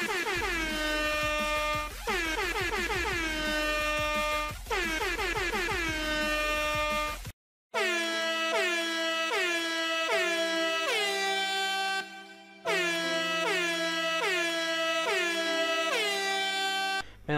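A loud, blaring air horn sounds in long repeated blasts with a brief gap partway, its harmonics sliding and wavering between blasts.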